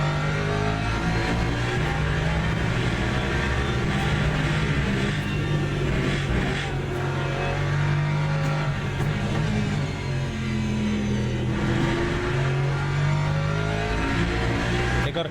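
An Aston Martin Valkyrie and AMG cars accelerate hard, a loud continuous engine roar with rising and falling revs throughout, steady and close with no talk.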